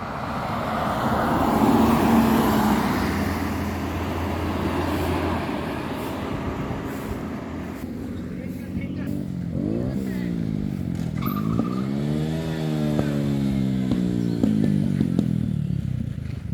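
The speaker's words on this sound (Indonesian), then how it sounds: "dari belakang masuk lagi bus NPM Sultan Cross, kali ini unit keempat Ambassador P76" NPM Sultan Cross bus, an Ambassador P76, drives in from behind, its engine rumble swelling among traffic noise before a sweeping multi-tone horn blares in rising and falling wails.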